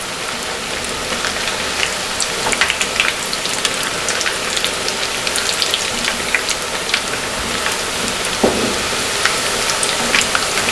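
Shami potato kebabs sizzle steadily in a hot pan after being flipped, a dense crackling fry with scattered pops throughout and no voices.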